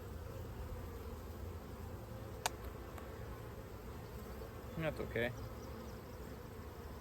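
Honeybees hum softly on a hive frame bearing a queen cell, a faint, continuous drone close by, with a sharp click and a brief rustle partway through and a short spoken phrase.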